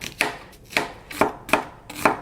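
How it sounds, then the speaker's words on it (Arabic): A knife slices onion thinly on a cutting board, five crisp close chops in a steady, unhurried rhythm with nothing else audible. "قطع البصل"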